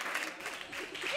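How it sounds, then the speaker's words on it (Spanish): Brief studio audience applause for a team on a Spanish TV quiz show, a short, fairly soft burst of clapping with voices mixed in. "Muy bien, un aplauso fuerte."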